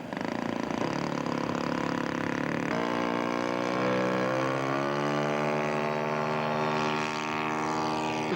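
A radio-controlled scale model airplane flies overhead at an outdoor scale aircraft show, its engine a loud continuous buzzing drone that rises and shifts in pitch as it passes.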